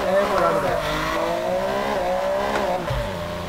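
A carbon-bodied turbo Honda Civic in a PC racing game yanks its handbrake, its engine droning loudly as the tires squeal through the slide and the revs drop near the end, with a voice talking over it.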